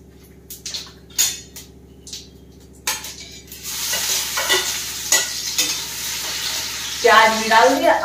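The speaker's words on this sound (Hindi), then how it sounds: "अब थोड़ी सी प्याज को भूनेंगे" Onions sizzle and crackle in hot mustard oil, with a few stirring scrapes early on and a rising, steady fry that grows louder toward the end.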